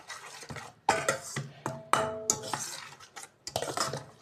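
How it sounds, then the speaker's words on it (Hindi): Barbecue fish fry spice masala being mixed in a bowl, with irregular clinks and scrapes of a utensil against the dish, a few sharper knocks among softer stirring, close by. "अब हम इस सारे मसाले को मिक्स कर लेंगे।"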